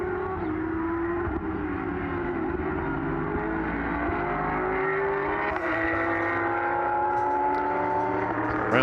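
GT race car engine lapping the Portimão circuit in a Trofeu GT Sprint race, a loud, continuous engine note whose pitch climbs and falls through the gears as the car pulls away, with faint crowd-free track ambience.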